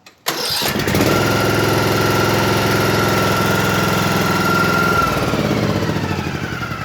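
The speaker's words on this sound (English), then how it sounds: "This is what it sounds like when you crank it with the key." A Snapper riding lawn mower engine is started with the key: a brief crank, then the engine catches and runs at a steady, loud idle close by, with no talking.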